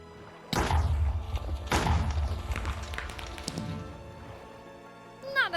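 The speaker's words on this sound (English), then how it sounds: "Not as big of an explosion as I had anticipated" In Minecraft, TNT blasts go off as two heavy booming thuds in quick succession, followed by a rumbling, crackling tail of debris that fades out before a faint final sound.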